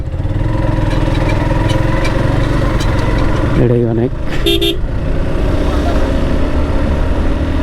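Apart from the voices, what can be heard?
motorcycle engine revving while accelerating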